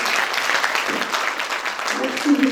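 Audience applause at the opening session of an international colloquium on preschool education, dense close clapping filling the hall, with a voice briefly audible near the end.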